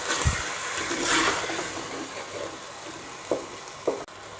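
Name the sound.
tomato slices added to sizzling pan with qeema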